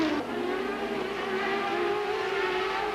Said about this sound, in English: Now Jan Magnussen goes for the inside as well, and there's no answer from Dario Franchitti.